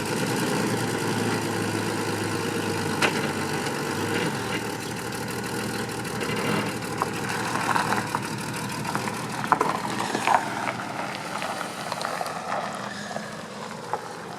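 A 1999–2004 Jeep Grand Cherokee, just fitted with a new fuel pump, runs its engine with a steady, even drone and low rumble throughout, plus a few faint clicks and rattles and no talk.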